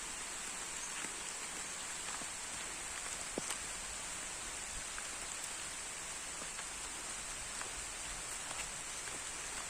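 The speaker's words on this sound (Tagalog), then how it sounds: "Maambon-ambon." Light drizzle falls outdoors on land dense with fruit-bearing trees, a soft, even patter of fine drops with occasional sharper ticks, quiet and continuous with no voices.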